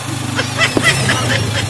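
A motorcycle engine, its stator newly wired to the regulator, starts up and settles into a steady low idle with a rhythmic pulse, close by, while someone talks over it.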